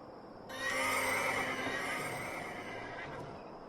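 A horse in the game Runes of Magic gives one loud, drawn-out whinny that starts abruptly and fades over about three seconds, close and alone with no talk.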